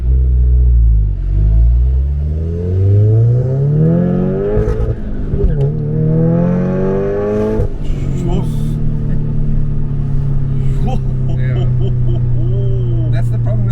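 An Audi S3 with a manual gearbox accelerates hard, its engine rising through several gear changes with a loud, steady rumble from inside the car, and occasional voices talking over it.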